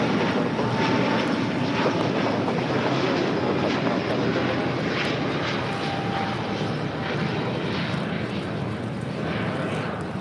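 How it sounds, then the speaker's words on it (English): A Lufthansa Airbus A350-900 takes off at LAX for Munich with a sustained, loud broadband jet roar that stays steady and slowly eases over ten seconds. "This is Lufthansa 453 Heavy taking off to Munich on the A350-900."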